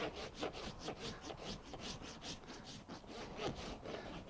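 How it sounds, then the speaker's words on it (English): A farrier's rasp files a horse hoof during hoof preparation, producing steady, repeated back-and-forth rasping strokes, each about half a second long, close and fairly loud with no talk. "I'll rasp this side until the line just disappears."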